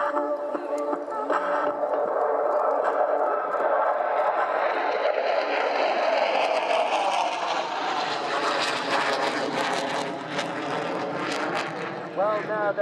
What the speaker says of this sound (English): The Ramex Delta tactical display utilises two Mirage 2000N jets.